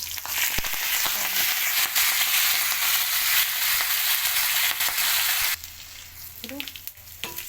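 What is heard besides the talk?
frying onions and fenugreek in a pan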